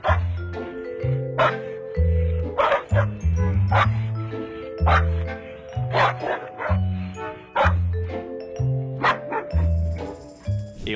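A big family dog barking in repeated rhythmic woofs and yips, close and loud, with some whimpering and chiming sounds mixed in.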